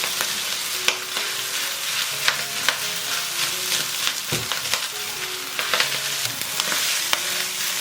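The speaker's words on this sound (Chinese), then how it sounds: "然后把米饭打散。" Rice stir-fried in a wok with beef and celery, loud continuous sizzling broken by repeated scraping and tossing clatters of the spatula, close up and without talk.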